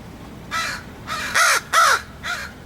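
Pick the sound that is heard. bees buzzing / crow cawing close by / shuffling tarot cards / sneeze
crow cawing close by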